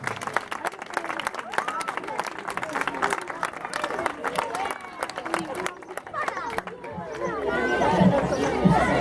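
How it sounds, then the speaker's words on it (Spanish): Audience applause at a charity CD presentation concert, with clapping and crowd chatter mixed together, the loudness fluctuating and swelling toward the end amid a general hubbub. "Un forte aplauso para Nati e Pilar."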